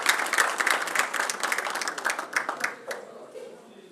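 An audience claps to welcome a speaker to the stage at a döner industry event, a brisk patter of many hands that fades out over a few seconds.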